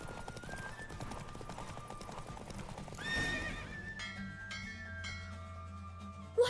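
A horse in The Witcher 3 gallops with steady rapid hoofbeats under a music score, then gives a loud whinny near the end.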